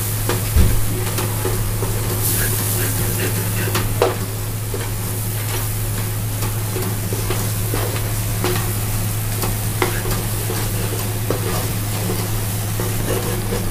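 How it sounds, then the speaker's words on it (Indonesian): Sri Lankan chicken curry with curry powder is stirred in a pan with steady sizzling and scattered scrapes and clinks of the utensil, over a constant low mechanical hum, no speech. "Diaduk lama ya, kira-kira 10 menitan nih teman-teman"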